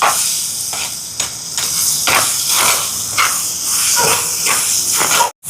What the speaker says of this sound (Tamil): இப்போ பாருங்க தக்காளி பழம் நல்லா வதங்கி வருது.